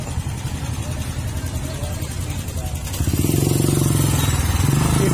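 A tricycle or motorcycle engine idling with a steady low chug that grows louder and fuller about three seconds in, near and continuous, with a faint background murmur.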